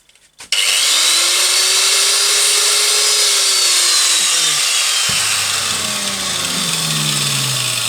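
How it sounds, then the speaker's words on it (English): An angle grinder cuts through a throttle cable on a hardtail bobber motorcycle, a loud, close, sustained high-pitched whine that starts abruptly and holds steady, its tone dipping as the disc bites into the cable. "I need to cut this one here, so again let's use the angle grinder."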